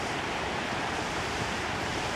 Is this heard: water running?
yes